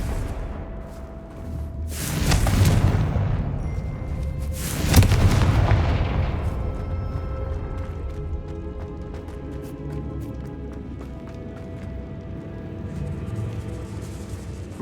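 Confringo explosive spell blasts in Hogwarts Legacy inside a decaying catacomb: two loud, booming impacts a few seconds apart, each trailing off into a long rumbling decay over quieter ambience.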